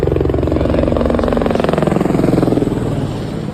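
A helicopter flies along the Amarnath Yatra route near Baltal, its rotor producing a loud, close, steady rhythmic chop that eases slightly near the end.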